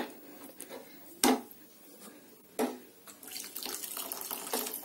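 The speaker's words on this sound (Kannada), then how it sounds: "ಇಲ್ಲಿ ನಾನು ಬಿಸಿನೀರನ್ನೇ ಹಾಕೊಳ್ತಾ ಇದ್ದೀನಿ, ಕೆಟಲಲ್ಲಿ ಕಾಯಿಸ್ಬಿಟ್ಟು." Hot water from a kettle pours and splashes into a pan, with a couple of sharp knocks and clinks, close and moderately loud, no voices.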